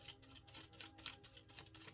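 Tarot cards shuffled by hand in a quiet room, a faint, steady run of soft riffling clicks and flicks repeating without pause.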